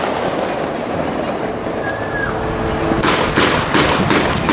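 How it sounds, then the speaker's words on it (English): Fourth of July fireworks on Detroit's east side crackle and pop in a steady, dense wash, with sharper bursts building toward the end under faint background voices. "Fireworks, east side of Detroit."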